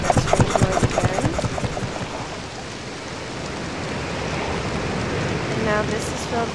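Water rushes in to refill the flooded basement of a boat in the video game Myst, a steady pouring hiss under someone talking at the start and end.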